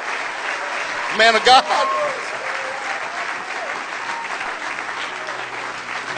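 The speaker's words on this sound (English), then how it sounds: "Well, you've clapped for me." A church audience at Calvary Lighthouse bursts into loud applause welcoming a guest speaker, with a voice calling out over the clapping and a dense, steady ovation continuing throughout.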